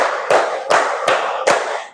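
A class claps in unison in a Tepuk counting routine during an Islamic ethics (Akidah Akhlak) lesson, four sharp group claps evenly spaced about every 0.4 seconds, loud and close, with no talking.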